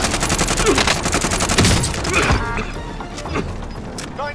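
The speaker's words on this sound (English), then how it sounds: "Receiving hostile fire." Sustained automatic gunfire rattles through a firefight in a battle royale video game, dense overlapping bursts sounding loud and close for several seconds before thinning slightly.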